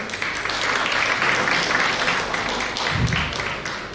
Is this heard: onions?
no